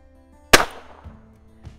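A single sharp gunshot from a Ruger Super Wrangler revolver firing regular .22 Long Rifle, close and loud, with a short decay trailing off into quiet.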